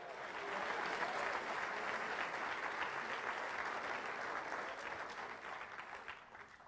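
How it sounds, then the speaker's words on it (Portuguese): Church congregation applauding during a Portuguese-language worship service, a steady wash of clapping that holds for several seconds and slowly fades, with no voices over it. "Aplauda o rei."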